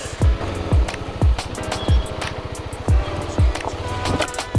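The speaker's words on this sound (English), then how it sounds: "Oh, that was a skid plate hit. Didn't sound very nice." Several sharp low thuds and scrapes strike at intervals over a steady running KTM 390 Adventure engine rumble, the motorcycle's skid plate banging against rocks on a trail.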